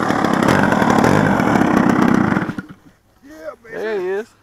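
A small model airplane engine screams loudly at high revs for a couple of seconds, then cuts off abruptly, followed by someone speaking.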